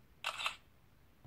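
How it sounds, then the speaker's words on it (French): A single camera shutter sound effect from a Vernee X smartphone, a short crisp double click standing alone over near silence. "On a aussi le beau bruit d'appareil photo décidément."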